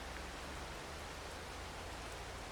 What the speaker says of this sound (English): It's just about to rain. In fact, it might, as it just started.